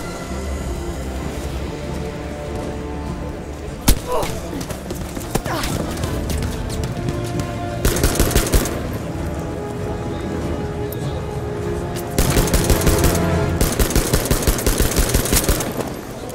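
Bursts of rapid automatic fire from a weak 41-round gun in the video game Battlefield 5, with one sharp early shot and dense clattering bursts later over constant game noise, with a voice talking at times.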